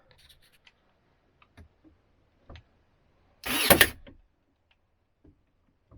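Brad nailer fires once into a mattress platform, a sharp pneumatic crack with a hiss lasting about half a second, amid scattered faint clicks and handling knocks in a quiet room.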